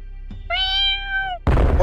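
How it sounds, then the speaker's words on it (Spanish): A cat meows once in the video game Hermetica, a clear rising-then-falling tonal cry about a second long, followed by a burst of broad noise. "¡Ahí va el gato!"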